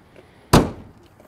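A single solid thump as the trunk lid of a 1970 Plymouth Hemi Cuda shuts, sharp and close, followed by quiet.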